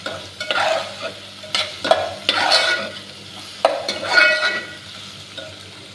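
Food stirred in a cooking pan with a spatula, scraping strokes repeating every second or so over a steady frying sizzle, close and fairly loud.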